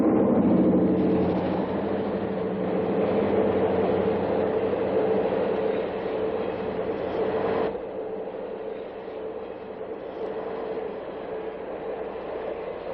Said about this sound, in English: East of Huntington, train number 32, the St. Louis, sweeps through.